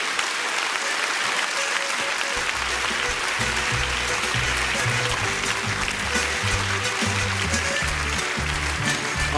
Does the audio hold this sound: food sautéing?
no